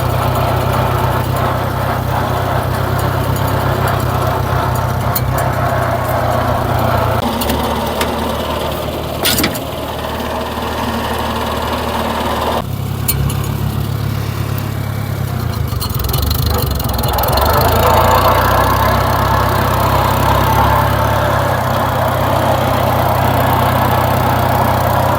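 A heavy 1981 John Deere tractor engine rumbles and idles steadily throughout, its pitch shifting a few times, close by with no talking.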